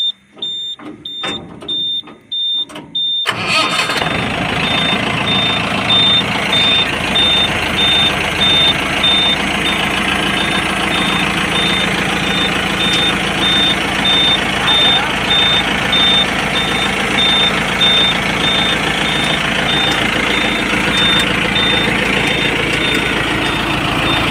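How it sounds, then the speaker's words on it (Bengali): Truck with a hydraulic lift: a few clanks and knocks, then the engine starts and runs loud and steady, while a high reversing beeper repeats throughout at a regular pulse, close to the recorder. "রাজা হাইড্রোটা তোলো, স্টার্ট করো।"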